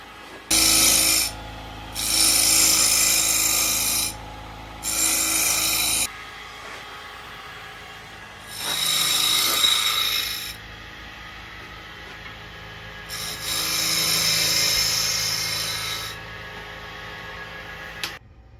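A scraper works across a spinning scalloped wooden bowl on a lathe, making bursts of bright, hissing scraping that start and stop several times with quiet gaps and low motor hum between, nearby and without speech.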